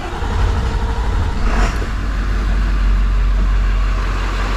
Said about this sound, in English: now I'm gonna go in the vehicle and start the truck